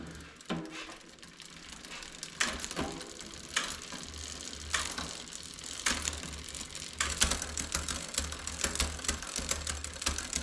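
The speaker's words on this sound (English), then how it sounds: "Getting the barrel adjuster up at the shifter clockwise. We have 3 turns, 3 clicks." Bicycle barrel adjuster at the shifter being turned by hand, giving a series of sharp ratcheting clicks in irregular bursts, close and fairly quiet, with no talking.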